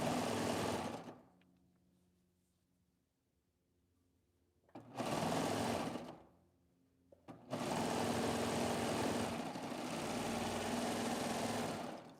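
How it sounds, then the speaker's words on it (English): A sewing machine stitches a neckband onto a tee in three loud, steady whirring bursts separated by quiet pauses, the last run longest and nearly alone. "So you let the sewing machine"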